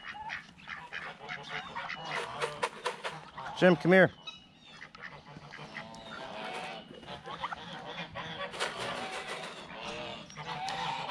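Ducks and geese honk among chickens in a backyard flock, with one loud, close burst of honking standing out amid ongoing chatter and a person talking over the birds.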